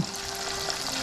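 Baby back ribs deep frying in a backyard fryer give a soft, steady bubbling sizzle of hot oil, faint and continuous with no talk.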